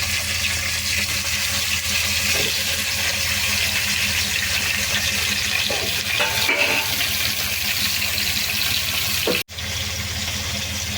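Okra, drumstick and tomato pieces are added to a frying onion tempering for sambar and then stirred. A steady, close hiss of sizzling continues throughout, with occasional clinks and scrapes and a brief cut near the end.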